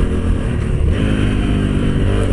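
A Honda CT125 Hunter Cub motorcycle cruises along a road, its small single-cylinder engine giving a steady, close hum mixed with wind rush and no change in pace.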